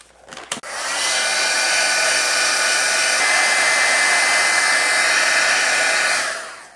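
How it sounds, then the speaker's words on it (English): A heat tool blows loudly and steadily while heat embossing a Halloween card, a constant close whooshing roar after a couple of brief clicks at the start, cutting off at the end. "then we'll just heat emboss it"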